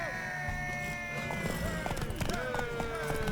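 Horse hooves clip-clop in The Witcher 3 during a race, quick irregular hoofbeats under layered game music and ambient effects, fairly faint in the mix.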